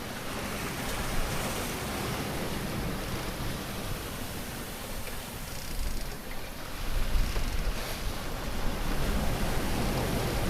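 Ocean waves wash steadily against a single-handed sailing boat far offshore, a dense, continuous roar with larger swells building louder toward the end.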